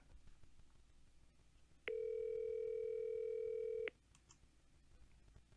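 A steady electronic phone tone sounds for about two seconds, loud and clean against a quiet background, then cuts off abruptly.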